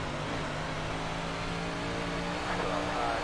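A 358 modified dirt race car engine in the iRacing sim at Dirt USA Speedway drones and revs steadily, a continuous loud engine roar with no talk over it.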